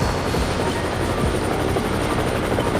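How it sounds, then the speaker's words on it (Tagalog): Four-seater helicopter with a dense, continuous close rotor and turbine drone, a steady rapid beating under a high whine, loud and unbroken throughout. "we have here a 4-seater helicopter"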